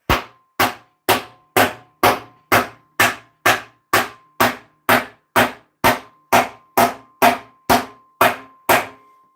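Hammer striking steel plate while shaping crusader armor, about seventeen sharp ringing blows at an even, steady rhythm, each with a short metallic decay, close and loud with no talk.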